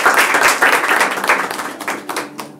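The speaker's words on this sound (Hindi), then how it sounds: "परमेश्वर के लिए जोरदार ताली बजाते हैं।" Loud, dense applause from a church congregation during a Sunday evening service, sustained clapping that fills the room before gradually thinning toward the end.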